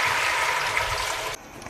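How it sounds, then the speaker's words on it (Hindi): A glass of water poured into chicken korma frying in a pan makes a loud, steady gushing sizzle that cuts off abruptly after about a second and a half, leaving a quieter hiss. "चिकन को 4 मिनट फ्राई करने के बाद अब इसमें शामिल कर देंगे 1 गिलास पानी"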